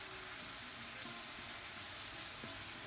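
Alfredo cream sauce bubbling and sizzling in a pan on the stove, a steady soft hiss with faint pops and crackles, no talking.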